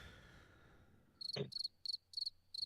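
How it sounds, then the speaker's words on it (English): Crickets chirping as a played sound effect: five quick, bright chirp bursts in a steady rhythm after a soft thump, fairly faint and alone. "Crickets."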